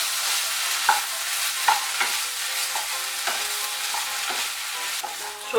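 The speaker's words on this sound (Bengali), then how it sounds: "দিয়ে সর্ষে বাটা আর পোস্ত বাটাটা আমি এখন ভালো করে মিশিয়ে নেব।" Mustard paste and poppy seed paste are stirred together for a Bengali drumstick vegetable dish, with repeated spoon strokes scraping the vessel in a steady rhythm over a soft continuous hiss.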